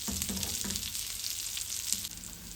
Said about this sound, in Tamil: அப்பதான் இந்த சோயா சங்க்ஸோட எல்லா பகுதியும் நல்லா ஃப்ரை ஆகும்.